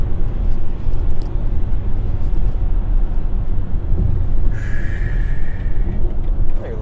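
A BMW iX M60 electric SUV drives in sport mode, its steady low rumble of road and motor noise filling the cabin continuously, with a faint synthetic tone rising near the end.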